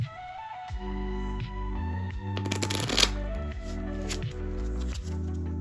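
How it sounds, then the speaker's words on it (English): Playing cards shuffled close up, a soft riffling flutter rising to a brief crisp burst, over a steady low musical drone. "ask them to shuffle it thoroughly. They can mix the cards as much as they want."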